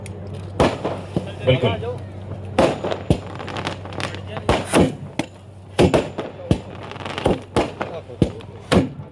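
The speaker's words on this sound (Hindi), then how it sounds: "पटाखों के साथ ये उद्घाटन से पूर्व की खुशियां" Firecrackers going off at a celebration before a hospital opening, a string of sharp loud bangs and pops at irregular intervals, some close and some farther off, with someone speaking briefly between them.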